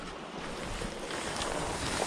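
Water in a rocky canyon flows with a steady broad rush, close and constant, mixed with some wind noise and no talk.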